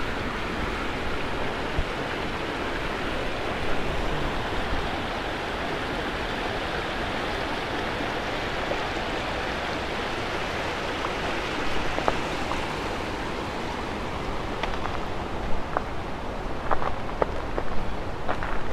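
A high, icy winter creek rushes near a covered bridge, giving a loud, continuous broadband roar of churning water that holds steady throughout, with a few faint ticks and no voices.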